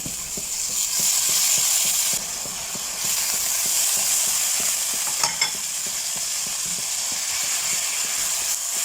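Tuna and coriander leaves are stirred in a hot pan for tuna pasta. A soft, steady sizzle runs under rhythmic scraping strokes of a utensil, with one brief clatter partway through and no talking.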